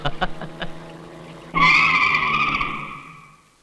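A car brakes hard to a stop with a sudden loud tire screech that fades over about two seconds, following a few soft thumps, with no talking.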